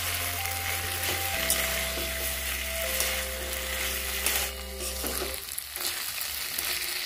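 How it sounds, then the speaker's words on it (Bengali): Poppy seed, garlic and green chili paste frying in oil with potato, onion and tomato for an egg curry, a steady close sizzle running throughout with a low hum beneath and no talking. "পোস্তটা দিয়ে ভালো করে আমি ভেজে নেব, কারণ এর মধ্যে রসুন আছে, তেলের মধ্যে ভালো করে ভেজে নিতে হবে"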